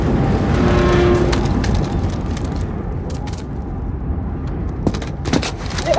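Vehicle engine in the Call of Duty Modern Warfare video game during an assault on a Georgia chemical plant, a loud rumbling drive with surging motor and low booms, then rattles and clunks as it continues.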